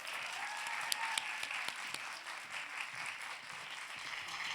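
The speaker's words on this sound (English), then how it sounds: "Please welcome them with a big round of applause." Audience applause welcoming panelists onto the stage at a women's media career summit, steady sustained clapping from a large crowd filling the room, moderately distant.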